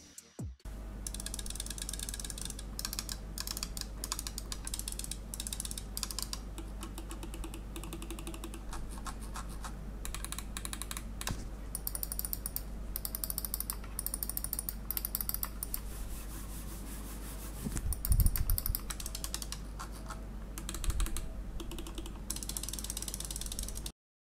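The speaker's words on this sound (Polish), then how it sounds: "posłuchajcie, jak same przełączniki brzmią" Razer DeathAdder V2 Mini gaming mouse switches click repeatedly, crisp and close, in quick irregular runs over a low steady hum, with no talk.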